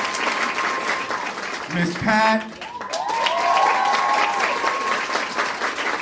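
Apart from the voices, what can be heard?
audience applause at recital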